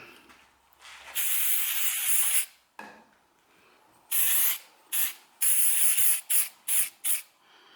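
CA glue accelerator sprays onto a boxelder burl urn on a lathe in several hissing bursts, one long spray followed by a quick series of short, sharp spritzes, close and loud.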